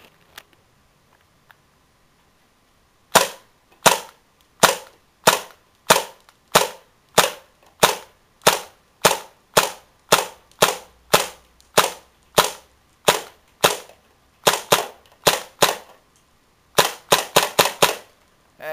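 Shots from a Tactical Force TF-11 gun during a shooting test, a long series of sharp, loud, evenly spaced cracks, about thirty in all, ending in a quicker cluster of rapid shots, with no talking.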